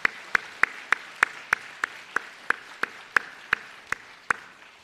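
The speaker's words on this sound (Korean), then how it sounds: "박수하겠습니다" Sharp, evenly spaced claps ring out close by in a church, a steady rhythmic beat of about a dozen claps welcoming a visiting former pastor and his wife.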